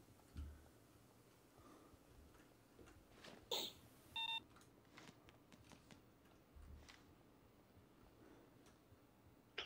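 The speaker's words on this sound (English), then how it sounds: "At least the beeps keep me awake." Electronic beeps sound in the PAYDAY 2 heist game, a few short sparse tones scattered among faint ticks and clicks over a quiet background.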